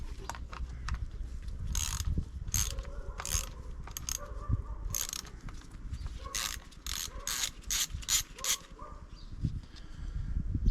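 Ratchet socket wrench loosening the two M8 cover nuts on a Stihl MS200T chainsaw, bursts of rapid ratcheting clicks repeated through the clip, close and clear over a low background rumble.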